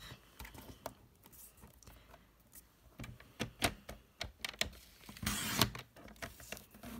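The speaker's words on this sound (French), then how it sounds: "Donc je vais venir déjà découper mes 2 cm." Strip of paper card being cut for a star place card, a series of faint close clicks and snips ending in a brief louder slicing rasp, with no talk.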